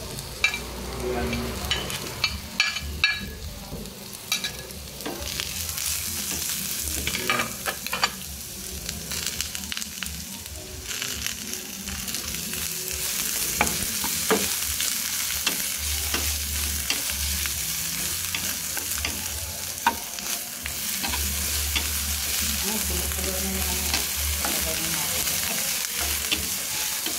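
Onions sauté in a hot pan, a loud, steady crackling sizzle with repeated scraping and stirring strokes and occasional utensil clacks throughout; no speech.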